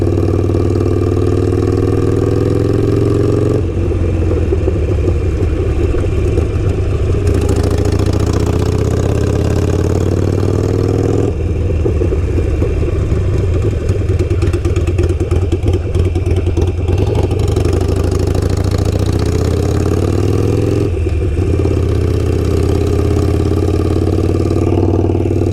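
Harley-Davidson motorcycle fitted with a Kinetic Motorcycles 'The Coil' exhaust cruising in second gear, a loud, deep, steady rumble with periodic shifts in engine pitch, close up throughout.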